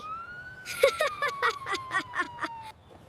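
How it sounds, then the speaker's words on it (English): A police car siren sounds in a driveway, a steady wailing tone sliding slowly downward with a rapid pulsing yelp layered over it, loud and close for a few seconds before cutting off. "There is a real police car in our driveway."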